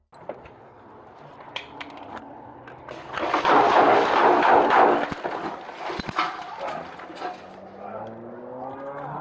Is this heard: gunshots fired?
yes